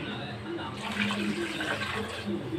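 Water is poured from a vessel into a cooking pot for rice to make hotel-style kuska, a steady splashing gush lasting a couple of seconds, with a voice faintly present beneath.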